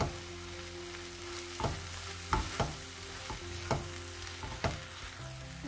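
A biryani mixture with mint leaves and coriander is stirred in a pan, a soft steady sizzle broken by repeated scraping strokes of a spoon, quiet and close, with no voices.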